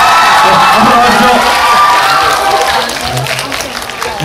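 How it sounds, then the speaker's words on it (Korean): Theatre crowd at a stage greeting for the Korean film Kundo: Age of the Rampant applauding and cheering the arriving actors and director, loud dense clapping with shouts and whoops that eases slightly toward the end. "박수를 좀 맞아주세요."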